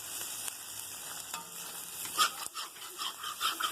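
Squid pieces frying in a pan for kanava thoku crackle and hiss continuously while a spatula stirs and scrapes with scattered clicks, close up with no talk.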